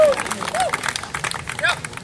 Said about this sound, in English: I think you need to give a round of applause to the coaches